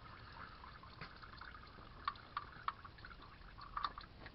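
Used engine oil drains from the oil pan of a 2010 Lincoln MKX, heard as a faint, steady liquid trickle over a low background hiss, with a few soft drips popping out near the end.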